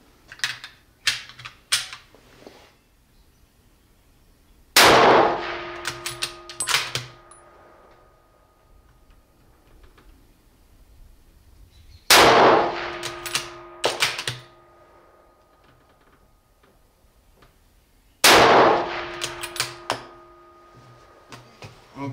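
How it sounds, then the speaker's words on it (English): A Remington Model 700 in .30-06 fires three rifle shots at a 100-yard target, each a loud sharp crack with a ringing tail, spaced several seconds apart with quieter mechanical clicks between. "we're gonna shoot a 3-round group at 100 yards"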